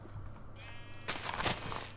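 A Minecraft sheep gives a single drawn-out bleat, moderately quiet, over a low steady hum, with no talk.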